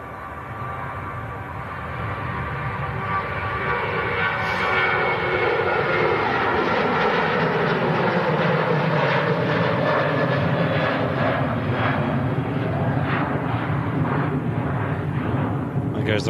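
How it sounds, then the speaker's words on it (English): A Ryanair Boeing 737 airliner passing overhead, its engine roar swelling and holding steady, broad and fairly loud, with chat from a live plane-spotting session over the top. "There's the Ryanair 737"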